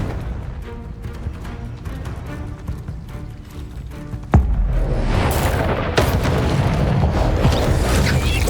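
In the Hogwarts Legacy video game, a Confringo blasting spell sets off a sudden booming explosion midway through, following a stretch of rapid combat clatter and thuds, then leaving a loud roaring rumble with another sharp burst.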